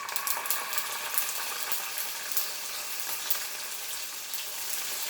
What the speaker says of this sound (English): I will add to this 1 teaspoon of ginger garlic paste.